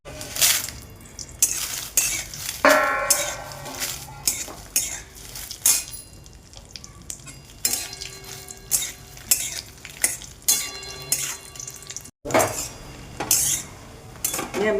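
Green chillies frying in a spoonful of oil in a pan, a steady sizzle broken by frequent clinks and scrapes from a metal spoon stirring against the pan.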